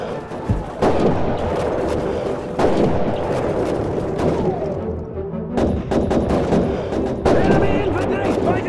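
Call of Duty 2 battlefield combat: dense, continuous gunfire with repeated sharp shots and heavy artillery booms, loud and sustained throughout, with voices shouting intermittently beneath the noise.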